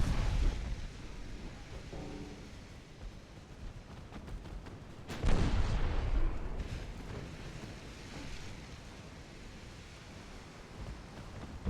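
In the naval war game Ultimate Admiral Dreadnoughts, a single heavy boom of 1893-era battleship gunfire bursts out midway over a steady wash of wind and sea, then fades back into the rushing ambience; no one speaks.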